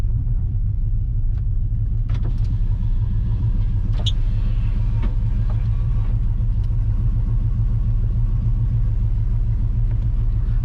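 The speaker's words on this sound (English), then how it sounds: "We'll see how loud it is inside the truck with the cutouts open." Cammed LQ4 V8 in a Chevrolet Silverado idling with the exhaust cutouts open, heard from inside the truck cab as a steady, loud, lumpy low rumble with no talk.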